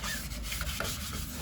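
A small turned wooden bowl being sanded with a 2-inch disc sander, heard as a faint, continuous, even hiss of abrasion with no talking.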